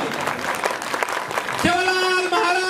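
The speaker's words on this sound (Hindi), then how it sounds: "जोरदार तालियों के साथ" Loud applause from an audience at a Sevalal Jayanti celebration in New Delhi, a dense burst of clapping for about a second and a half before a voice takes over over the fading clapping.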